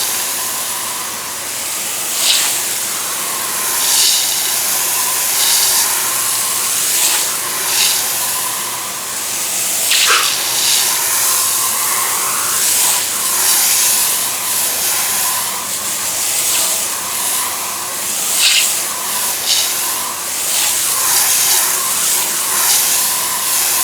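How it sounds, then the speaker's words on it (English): A loud, steady water spray rinses cleaner off two test surfaces, a continuous close hiss whose intensity swells and dips as the stream moves across them, with no talking. "let me simply rinse off both sides"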